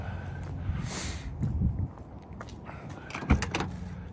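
A Ford truck door swings and shuts on a striker pin fitted with a nylon insert, a soft latching thud near the end among light handling clunks and rustle.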